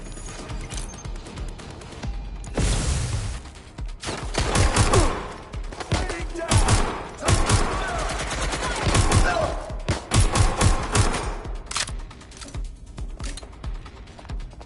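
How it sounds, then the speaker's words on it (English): Gunfire aimed at the player in Watch Dogs: Legion, repeated loud bursts and rapid volleys of shots cracking close by, with brief lulls between them. "Getting shot at here."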